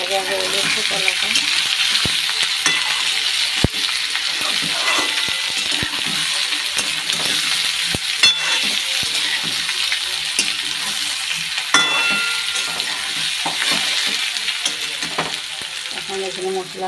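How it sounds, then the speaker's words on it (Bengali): Sliced banana sizzling and frying in oil in a pan, a steady broadband crackle that holds close and loud throughout with occasional stirring clinks, a voice speaking faintly underneath. "ভাজা হয়ে গেছে কলাটা"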